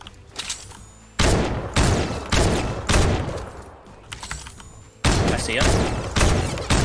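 Rapid bursts of gunfire from a Fortnite battle royale squad match, loud and close, firing in repeated volleys of a second or so with brief gaps, while a player talks over the shooting.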